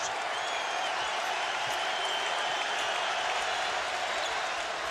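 A packed crowd at a college basketball arena, Louisville versus Syracuse, roars in a continuous loud wash of cheering and shouting, with faint shoe squeaks and whistle-like calls poking through.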